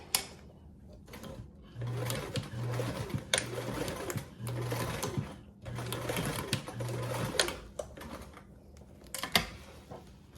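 Sewing machine stitching a 3/8 inch seam to join a bag lining and zipper piece, running in several bursts with short pauses between them. Each run gives a steady mechanical whir and rapid needle chatter, close and clear.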